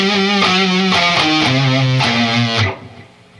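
A distorted electric guitar plays a riff, a crunchy rhythmic pattern of chugging chords and shifting low notes, loud and close, cutting off abruptly into a fading ring.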